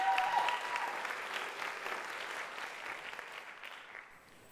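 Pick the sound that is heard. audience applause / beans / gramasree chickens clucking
audience applause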